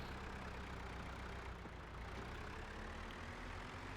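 A small tractor engine labouring up a hill on farmland, a steady low rumbling drone that holds constant throughout and sounds close and continuous, with no voices.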